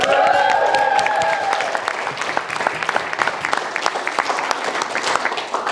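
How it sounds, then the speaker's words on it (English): Wedding guests cheer with high whoops at first, then a room full of people applauds steadily with dense, continuous clapping. "Can we all have a wee cheer for Alana, please?"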